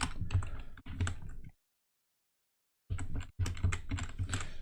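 Rapid keystrokes on a computer keyboard while entering a line of text in a code editor, two close bursts of clicking separated by a pause of silence, with no talking.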